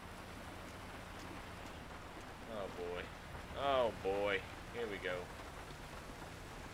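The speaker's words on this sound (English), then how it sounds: "a little bit of rain is coming" Steady rain falling in the GTA 5 video game, a constant soft hiss throughout with someone talking briefly over it.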